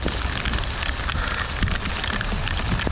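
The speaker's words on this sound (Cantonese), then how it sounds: "有咁大雨嘅" Heavy rain pours down outdoors while a crew works hauling a vehicle up with ropes, a dense, steady hiss of drops beating on surfaces, loud and close throughout with no pauses.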